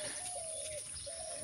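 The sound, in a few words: dove cooing in village morning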